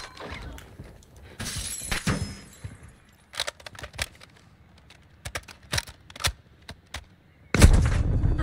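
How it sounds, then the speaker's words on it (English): Sharp gunshot cracks and clattering impacts sound in a DMZ match, several brief scattered reports at moderate distance followed by a louder rumbling burst at the end. "Oh, I just got sniped."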